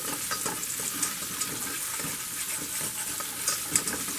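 Pot roast gravy is stirred in the pan as a flour mixture is mixed into it, a soft, steady scraping and swishing under a faint sizzle with no talking.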